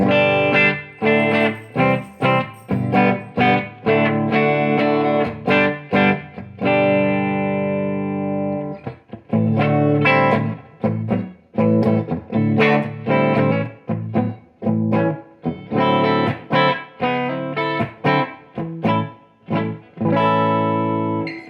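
Distorted electric guitar, an affordable ES-335-type semi-hollow on the bridge pickup, playing a run of short, choppy chords and notes with brief gaps, bright and gritty, no voice.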